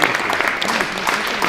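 A crowd at the final of the FFT Padel Tour Padel Horizon applauds the finalists with steady, continuous clapping that stays busy throughout, while a voice seems to carry faintly underneath.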